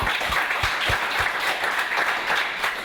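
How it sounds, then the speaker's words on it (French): Audience at a French-language tech conference talk on Kotlin Multiplatform applauds, brisk dense clapping filling a few seconds, with a few distinct low thumps near the start. "Et je vous demande juste de l'applaudir pour démarrer cet après-midi."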